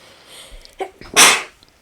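A single sharp human sneeze bursts out loudly and close, preceded by a quick intake of breath, in a quiet indoor setting.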